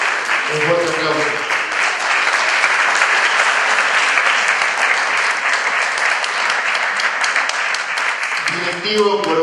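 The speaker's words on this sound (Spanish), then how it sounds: "Un fuerte aplauso." Ceremony audience at a centenary event in Montevideo giving loud, sustained applause for a medal presentation, with a speaking voice briefly heard at the start and again at the end.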